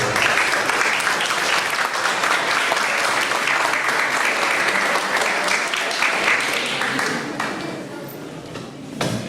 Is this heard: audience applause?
yes